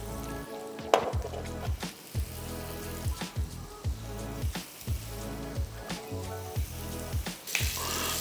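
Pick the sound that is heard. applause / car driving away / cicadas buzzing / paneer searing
paneer searing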